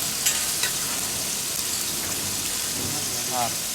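Yogurt is stirred into a sizzling lamb biryani masala in a pot, a steady hissing fry with soft stirring sounds and a faint brief squeak, close and without talk.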